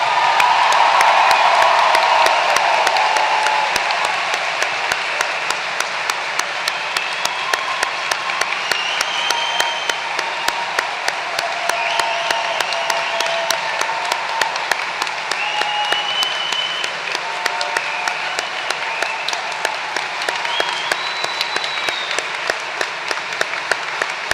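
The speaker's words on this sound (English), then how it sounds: "Let's have a round of applause for the class of 2025." A commencement crowd applauds the graduating class of 2025, with continuous loud clapping, scattered cheers and whoops throughout a long, sustained ovation.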